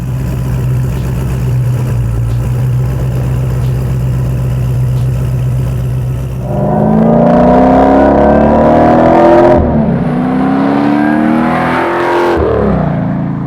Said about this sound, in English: We went with MagnaFlow and came up with a really nice X-pipe design using their mufflers and then doing a rear exhaust through the bumper